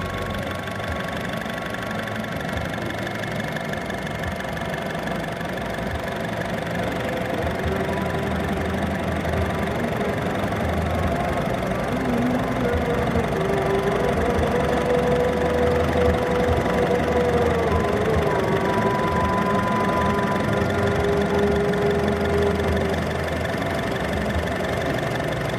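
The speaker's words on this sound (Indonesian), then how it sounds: "sebaiknya kita dengar suara mesinnya." A Honda Mobilio petrol engine idles with a steady, even hum and a faint mechanical ticking that continues unbroken, with no voices over it.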